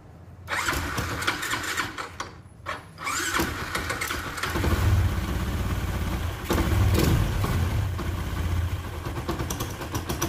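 A Yamaha Jupiter MX 175 cc bored-up motorcycle with stock exhaust cranks and starts after a short pause, then runs close by with a steady, throbbing idle and occasional revs.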